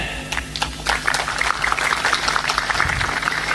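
Applause from a crowd at a religious gathering, scattered sharp claps building into a denser patter, moderately loud and steady after the first second with no talk.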